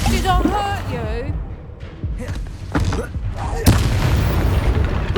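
A Confringo blast spell going off in Hogwarts Legacy, a sharp booming burst after a spoken incantation, followed by rumbling impact noise with voices over it.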